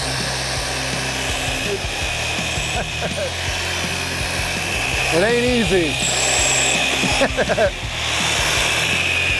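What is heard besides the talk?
power drill drilling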